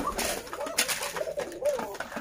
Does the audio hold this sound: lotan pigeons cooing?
yes